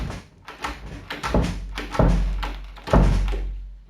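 A stuck door is forced as a Foley effect in a told story: a series of heavy thunks and rattling bumps, ending in two loud, booming hits that ring out, close and with no voices.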